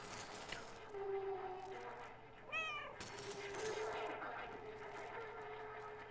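The cat in the video game Stray gives a single rising and falling meow midway through, set against a low steady game ambience.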